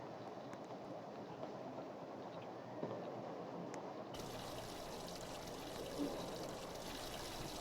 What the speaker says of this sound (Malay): Lepas makan kena basuh tangan.